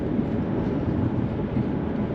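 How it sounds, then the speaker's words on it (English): A big diesel engine on a BMW E60 drones steadily in a low, rumbling hum, continuous and fairly loud, heard alone with no talking. "big old diesel. It sounds real cool."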